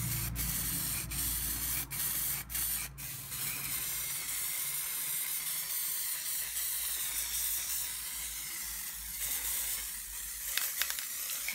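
Spray paint hisses steadily from an aerosol can onto a motorcycle wheel and its spokes for a cafe racer build, a continuous close airy spray broken by a few short gaps and sharp clicks near the start.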